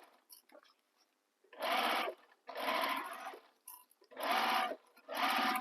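A sewing machine back stitches over the handle of a Birkin-inspired Becca bag in four short, close motor bursts of rapid stitching, each separated by brief pauses, with faint handling clicks between them.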